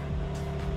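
A 2024 car's engine idles after starting, a steady low rumble with a constant hum and two slight swells in revving, near and moderately loud with no talking.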